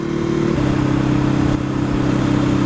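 A new Ducati Hypermotard motorcycle riding in its lowest urban power mode, its engine droning steadily close up with a low, even rumble and slight shifts in pitch, no voices over it.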